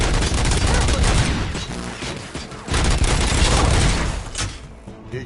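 UED robots fire relentlessly in the RoboCop game, a loud, dense barrage of gunshots and booming impacts that swells and ebbs in continuous waves.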